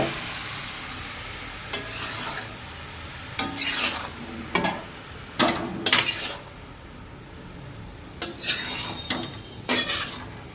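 Gujarati patra pieces are turned with a spatula on a flat pan in a tempering of hot oil, giving soft steady sizzling punctuated by about eight loud scraping strokes at irregular intervals.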